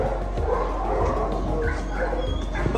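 A dog barks and yips repeatedly in short bursts over a constant low rumble, fairly close and loud, with some faint voices in the background.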